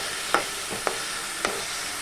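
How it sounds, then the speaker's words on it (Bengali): Ingredients stirred in hot oil with a little salt while making pasta, a soft frying sizzle punctuated by three distinct scraping stir strokes, close and without talking. "এগুলো একটুখানি নাড়াচাড়া করে নেই তেলে নুন দেওয়া অল্প একটু নুন দিলাম"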